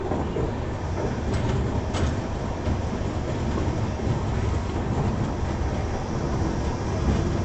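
Andhra Pradesh Express pulling out of Visakhapatnam station, a steady dense rumble of rolling wagons and track noise heard from on board, with faint clicks and no voices.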